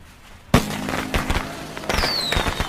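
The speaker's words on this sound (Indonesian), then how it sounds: "Keduanya kemudian bersiap melakukan sesuatu yang besar, yaitu menyalakan kembang api." Fireworks set off nearby: a sharp bang, then a burst of crackling pops and repeated cracks, with a rising whistle near the end.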